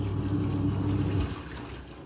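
Water churns and sloshes steadily inside a fully automatic washing machine during its wash cycle, a close continuous swirling that eases slightly toward the end, with no talking.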